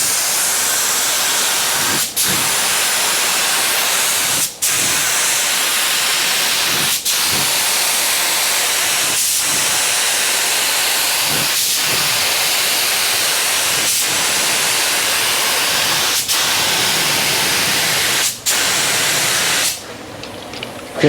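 A paint spray gun lays a coat on a 1967 Camaro with a loud, close, continuous airy hiss, broken by brief pauses every few seconds before each new pass; it ends with a short drop-off.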